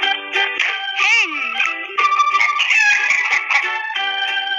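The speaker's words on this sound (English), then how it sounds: "Hen." A hen calling loudly and close by, a run of shrill, wavering squawks with rising and falling pitch, and no talking.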